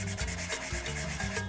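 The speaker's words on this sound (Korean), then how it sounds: "아까 보여드린 사포를 이용해서" Sandpaper rubs back and forth across a handmade ceramic piece to erase pencil marks, a close, raspy scratching in quick repeated strokes.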